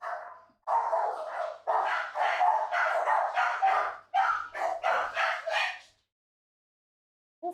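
A man imitates a dog with his voice, giving a rapid run of loud woofing barks in two bursts, close and clear, during a stream of the video game Kena: Bridge of Spirits.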